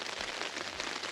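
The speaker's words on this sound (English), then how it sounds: "definitely wasn't expecting the rain today, but we got some." Rain falls steadily on a backpacking campsite along the Arizona Highline Trail, a dense, even hiss of drops pattering on surfaces close by, continuous and alone without any talking.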